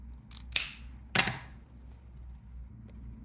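Scissors snip through the roots of a young orchid being repotted, two crisp close cuts followed by a fainter third snip, with quiet background between them.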